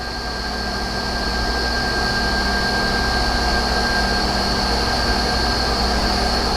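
An Altendorf F5 edgebanding machine runs an edge through its stations with a loud, continuous industrial drone and steady mechanical hum, no pauses.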